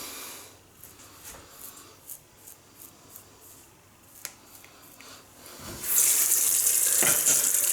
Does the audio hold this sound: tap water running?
yes